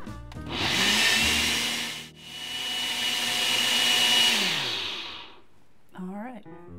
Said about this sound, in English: we're just gonna blend this until it's nice and smooth